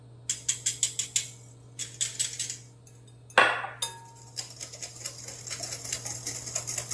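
Egg yolks, sugar and salt whisked very quickly in a bowl, close, sharp rapid metallic clicks in quick bursts with brief pauses and one louder clatter.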